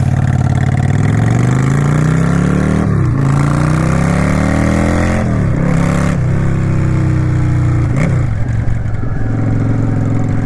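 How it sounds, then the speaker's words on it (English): A Yamaha V-Star XVS 650 cruiser motorcycle engine pulls away, loud and close, its low throb rising through several revving gear climbs with brief dips at each shift. "This is a 650 and it sounds meaner than most Harleys."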